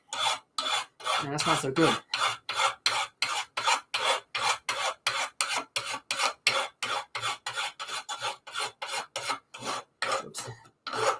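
A hand file rasps along the sharp edges of a forged blade in a Viking-style blacksmith shop, in steady back-and-forth strokes, close and evenly paced, with a brief spoken remark partway through.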